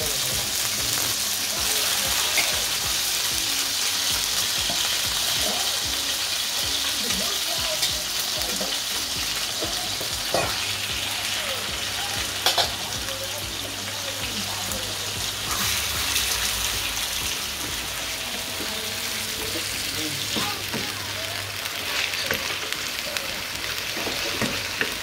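Marinated chicken, seasoned with ginger, garlic, salt, pepper and soy sauce, fries in a little oil in a frying pan with a steady close sizzle and occasional stirring clinks, running unbroken for the whole stretch.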